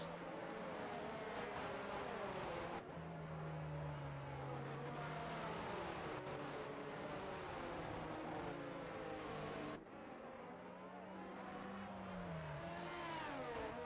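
Racing cars in an F1 video game at Singapore, circulating behind a safety car: engine tones rise and fall as the cars lap at reduced pace, with gear changes, a steady background hum and no voices.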